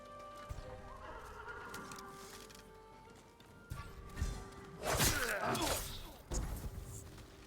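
Horses snort and whinny amid hoof clip-clops and shuffling at stables in the video game Ghost of Tsushima, with a louder burst of neighing and movement in the middle, fairly close.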